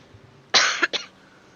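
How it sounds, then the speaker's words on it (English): A sick race commentator coughs twice up close, a harsh burst followed quickly by a shorter second one, against an otherwise quiet background. "Excuse me, I'm a little sick, so I may cough a lot"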